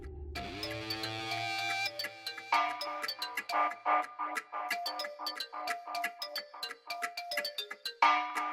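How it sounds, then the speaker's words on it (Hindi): A mobile phone rings with a bright, melodic electronic ringtone of repeated chiming notes, fairly quiet and clear, with no talk over it. "आपका फोन रिंग हो रहा है।"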